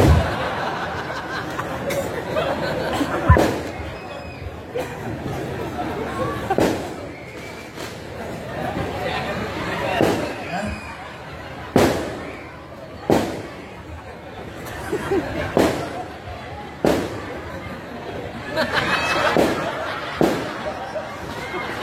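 Firecrackers go off at a comedic Islamic sermon gathering: a series of sharp bangs, about one every second or two, ring out over steady crowd chatter and laughter.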